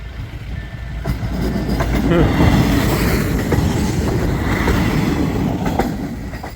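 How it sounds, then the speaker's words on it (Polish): A train rumbles past close by at a level crossing on the Miłkowice–Żary railway line in Poland, wheels clattering rhythmically over the rails with a loud, heavy roar that swells and holds. "No i udało się dwa pociągi nagrać."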